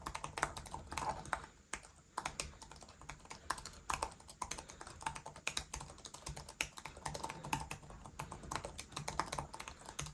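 Quiet, rapid typing on a thin, lightweight Mokibo Folio Universal Bluetooth keyboard, a steady stream of soft, close-up key taps with brief pauses.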